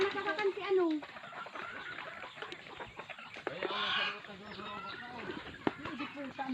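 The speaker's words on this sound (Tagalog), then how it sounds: "May nakakulong ba ang manok?" Chickens cluck nearby in a rural Bicol setting, a string of short, uneven clucks and squawks mixed with voices talking close by.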